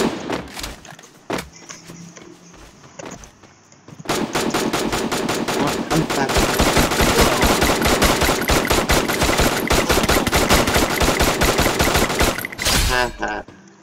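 Rapid bursts of automatic gunfire from the mobile shooter game Free Fire, starting sparse and then becoming a dense, loud, sustained volley of close shots with brief gaps before stopping.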